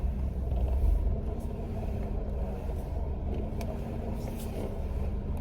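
Idling engine of a manual-transmission car waiting in a drive-thru, a steady low rumble heard from inside the cabin, with faint clicks and no talking.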